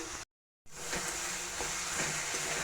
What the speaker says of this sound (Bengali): আর একটু ভালো মতে কষিয়ে নিচ্ছি